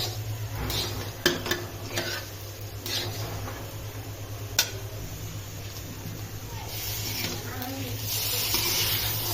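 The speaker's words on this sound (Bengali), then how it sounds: "চাল মিলিয়ে নেব।" A spoon scrapes and clinks in a cooking pot as rice is stirred into fried potatoes for beef keema tehari, giving sparse metallic taps over a steady low kitchen hum and faint sizzle, with people talking at times.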